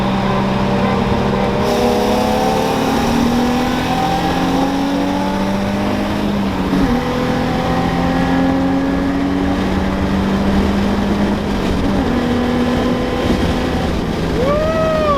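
Infiniti G35 coupe and 2020 Subaru WRX accelerating hard in a roll race, heard as a loud continuous engine drone from inside the car, rising through gears in repeated climbing sweeps with brief shift dips.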